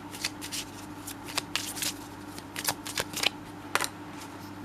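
Tarot cards being shuffled by hand, a close, soft run of riffling and flapping card sounds with short bursts and brief pauses, no talking.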